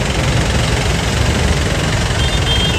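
Vehicles idling in a traffic jam in a crowded wholesale bazaar in Ludhiana, a loud continuous engine rumble with low vibration and no break.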